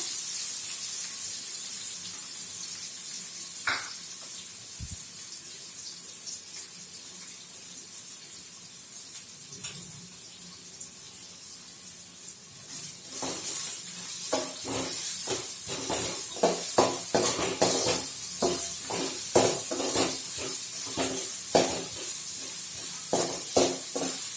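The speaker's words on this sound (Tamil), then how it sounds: "2 வெங்காயம் நறுக்கி வச்சு போட்டுக்கிறேன்" Oil sizzles and hisses softly, then crackles in frequent sharp pops as chopped onions fry, growing busier toward the end.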